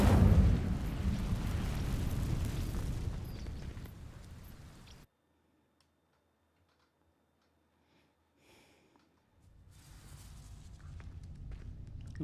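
In Hogwarts Legacy, an Incendio fire spell ignites dry vines with a loud, roaring burst of flame that fades into near silence, and then a softer crackling rumble returns. No one speaks.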